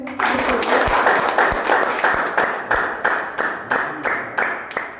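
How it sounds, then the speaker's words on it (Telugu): An audience at a meeting claps together, a steady run of sharp hand claps at an even rhythm that thins toward the end, loud and close with no talk over it. "ఒక్కసారి అందరూ క్లాప్స్ ఇవ్వండి."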